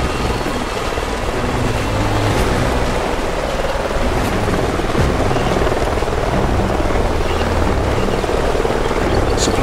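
A cargo helicopter in the video game Call of Duty Ghosts flies through a jungle area with a loud, continuous rotor roar that holds steady throughout.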